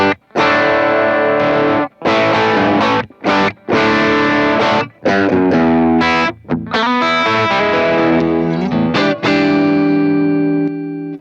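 Electric guitar played through a Tsakalis Mothership tube overdrive preamp on its gain B channel, loud and saturated, with dense distorted chords and riffs cut by short silent breaks, alone without voices.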